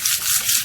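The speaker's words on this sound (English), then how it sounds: "Just get it sanded down so that the paint will stick a lot easier to the plexiglass." Plexiglass is scuffed with 220 grit sandpaper to rough it up for paint. A close, continuous abrasive rasping is heard as the paper is rubbed back and forth across the surface.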